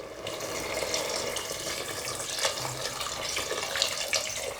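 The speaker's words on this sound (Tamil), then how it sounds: "தேவையான அளவுக்கு தண்ணி ஊற்றி நல்லா இதை வேக வைக்க போகிறோம்" Water poured into a cooking pot of goat intestines for a gravy: a steady, moderately quiet splashing and gushing stream that runs throughout without pause, with no talking.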